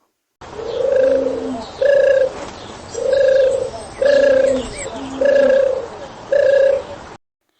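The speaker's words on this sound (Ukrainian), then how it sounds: "Думаю, ви впізнали, що це гуркують голуби." Repeated low pigeon coos in a steady rhythm, six throaty phrases close by with short pauses between, no talking.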